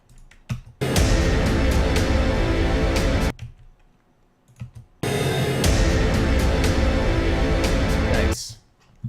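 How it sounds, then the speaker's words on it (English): A very low-end hit used as an accent in a modern horror trailer for The Shining: two long, heavy booming bursts with a sustained rumbling tail, separated by a short near-silent gap, loud and close with no talking. "a hit, like a very low end hit, just to kind of accent it a little bit"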